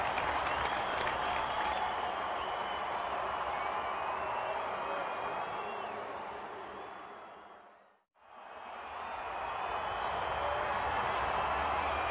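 A cricket video game crowd applauds and cheers a big six, a dense, steady roar of clapping that fades out briefly midway before swelling back to full strength.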